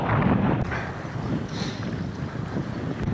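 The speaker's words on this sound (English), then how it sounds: "Quite exposed to the wind along here." Strong wind roars steadily across the microphone while cycling along an exposed country lane near Winterton in North Lincolnshire, a loud, constant buffeting rush with no speech.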